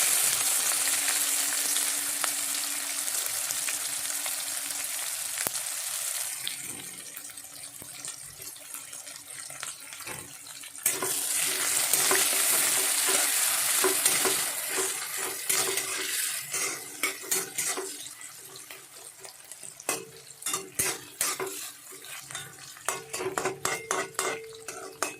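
Onions fry in a pan after bay leaves go in, a bright steady sizzle interrupted by stirring scrapes and metallic taps, with a burst of louder hissing midway.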